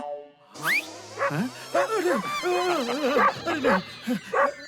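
Cartoon dog barking in a Hindi children's animated show, several short yipping barks and whimpers in a row, close and fairly loud, mixed with voices talking.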